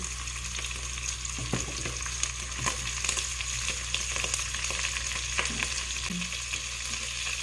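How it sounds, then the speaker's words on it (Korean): Onion and zucchini are stir-fried in a pan for doenjang-jjigae, giving a steady close sizzle broken by scraping and clicking stirring strokes, with no talking. "자, 이제 또 열심히 볶아줍니다."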